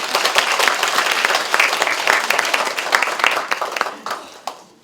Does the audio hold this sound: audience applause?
yes